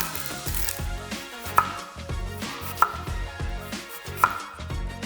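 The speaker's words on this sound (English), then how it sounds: "now prepping step 3 is to slice up this onion for the caramelized onion part" A knife slices an onion on a cutting board for caramelized onions, steady rhythmic thuds of the blade striking the board, close and clear, with a few sharper clacks spaced through the run and no talk.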